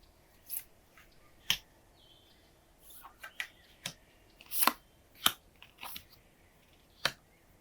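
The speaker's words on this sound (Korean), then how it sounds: "2번 선택해주신 분들 카드 열어보겠습니다" Tarot cards handled and flipped over during a love reading, giving a scattered series of sharp, light snaps and papery flicks, close and quiet, with no talking.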